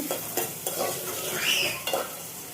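Onions fry in a pan with a steady sizzle, and a spoon or spatula scrapes and stirs in a few short clinks over it. There is no talking.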